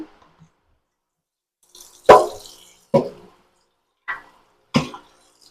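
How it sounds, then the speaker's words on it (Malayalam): Chopped mutton tripe is washed in water with a few separate splashes and plops, about four distinct wet hits spaced a second or so apart against near silence. "കുറേ വെള്ളത്തിൽ കഴുകണം കേട്ടോ കുറേ വെള്ളത്തിൽ നല്ല രീതിയിൽ വൃത്തിയാക്കി എടുക്കണം"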